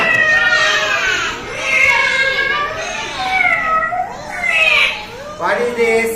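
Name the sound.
cat meowing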